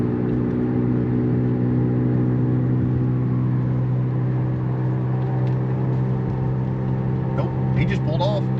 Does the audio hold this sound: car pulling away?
yes